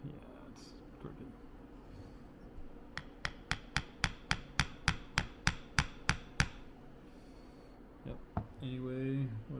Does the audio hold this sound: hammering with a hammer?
yes